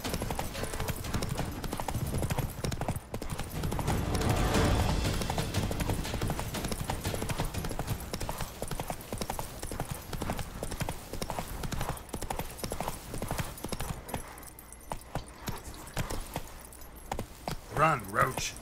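Hooves clip-clop in a steady trotting rhythm as the horse Roach moves through The Witcher 3, with a brief whinny and jingling tack, under continuous game ambience and occasional talk.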